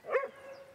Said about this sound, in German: wie er so anfing zu bellen